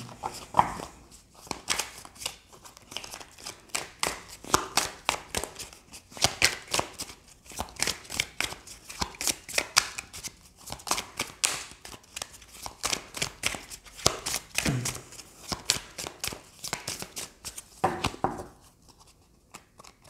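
Oracle cards shuffled by hand for a card reading, a rapid continuous riffle of crisp papery flutters in quick bursts, close and moderately loud, with no talk.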